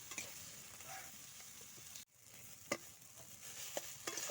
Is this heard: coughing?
no